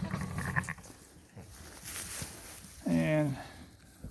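A newborn lamb gives one short, wavering bleat near the end, close by on a sheep farm during lambing, over continuous background noise and a voice talking.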